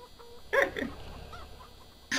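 Hens on a farm let out a few short, loud clucking bursts near the start and again at the end, with quieter low background noise between.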